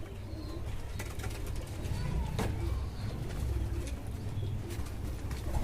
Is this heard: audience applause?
no